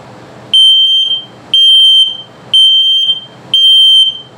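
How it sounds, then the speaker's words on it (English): The combined LP and carbon monoxide detector in a 2022 Starcraft Autumn Ridge 26BHS RV gives its low-battery alert. It is four loud, evenly spaced shrill beeps, about one per second, with a faint hiss between them. "the next one is your low battery alert"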